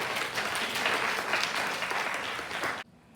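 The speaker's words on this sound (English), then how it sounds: "let's give a hand clap for Ms. Shirley Brill, President and CEO of" A crowd applauds steadily for about three seconds, dense and loud, then the clapping cuts off abruptly.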